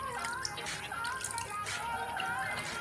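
A leaking household water tap drips steadily, with repeated small drops landing in water amid a constant background hiss and trickle, fairly close and moderate in level.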